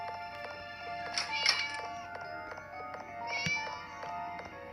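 A cat meows repeatedly in a horror video game, several clear, close cries in a row over a faint game backdrop.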